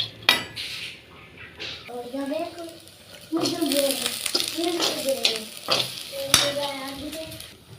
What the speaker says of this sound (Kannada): ಹಾಗಲಕಾಯಿಯನ್ನು ಚೆನ್ನಾಗಿ ಎಣ್ಣೆ ಹಾಕಿ ಹುರಿಯಬೇಕು